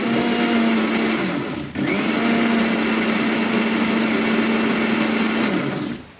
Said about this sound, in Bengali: চলুন ভালো করে আমি আগে প্রথমে শুকনোই বেটে নিচ্ছি।